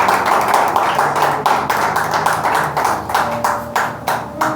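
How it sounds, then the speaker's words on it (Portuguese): A church congregation claps in a steady, rhythmic beat, loud and close, with sharp regular hand claps over a faint background tone and no clear talk. "Aplausos para Jesus"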